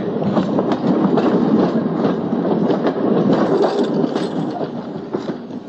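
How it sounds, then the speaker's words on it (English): An InterCity 125 train rolls past on nearby rails, a loud, steady roar with rhythmic clicking from the wheels over the track that holds for several seconds and eases slightly at the end. "As that train passed, I saw the sleepers heaving up and down."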